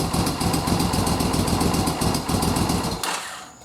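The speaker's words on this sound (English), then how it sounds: "it is a good sounding bike, and it does run quite well" A 1987 Suzuki 1400 motorcycle engine idles with a steady, loud, close rumble and rapid even pulsing, then cuts off abruptly near the end, leaving a faint hiss.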